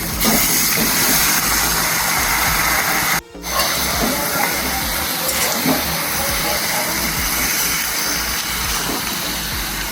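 Chicken dropped onto fried onions in a hot pan, a loud continuous close sizzle and hiss that drops out briefly, then carries on steadily.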